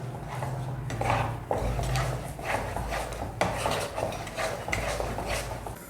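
Besan and milk batter with green chillies and coriander being stirred in a bowl, a steady run of scraping, rubbing strokes of a utensil against the bowl, close and moderately loud with no talking.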